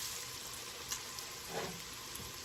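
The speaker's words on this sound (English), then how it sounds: "onion sauteing in bacon grease" Onion sautéing in bacon grease in a pan gives a soft, steady sizzle and crackle, fairly quiet, with a few light stirring clicks.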